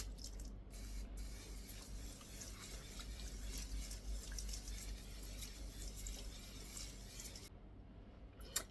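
A spray bottle misting plain water onto a face as makeup setting spray, a soft continuous hiss lasting several seconds, fairly faint and close, ending in a brief pause, with no voices.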